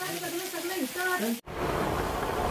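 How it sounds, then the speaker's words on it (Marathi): Steady rain hisses down with a dense, even patter; talking is heard over it at first before the rain continues alone. "आता निघायची वेळ आली तर परत पाऊस चालू झाला"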